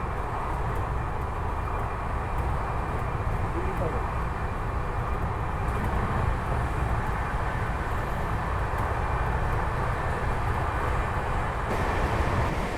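The Amrit Bharat Express, train 16598 bound for SMVT Bengaluru, runs on the tracks at about 125 km/h, a loud, constant rumbling roar heard from inside the moving train with no let-up.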